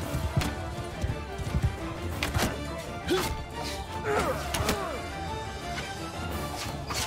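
Horse hooves pound in a rapid clip-clop during a battle in the video game Mount and Blade Bannerlord, mixed with thuds, crashes and combat noise in a dense, busy game soundscape.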